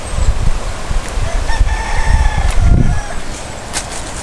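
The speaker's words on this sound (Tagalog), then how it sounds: "Kapag kumakak yung manok." A rooster crows once at mid-distance outdoors, a drawn-out call rising out of constant rumbling background noise.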